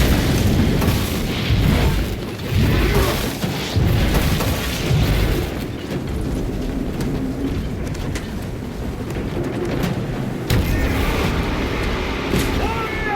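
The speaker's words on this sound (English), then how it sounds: "Frag grenade deployed." A frag grenade detonates in Warhammer 40K: Space Marine 2 amid sustained loud combat, with heavy booms and blasts layered over continuous battle noise and a voice speaking in places.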